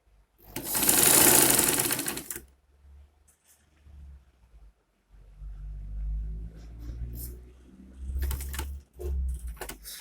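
Sewing machine stitching the seam allowance on a face cap, a loud steady whir for about two seconds, then quieter intermittent bursts of stitching with pauses between runs.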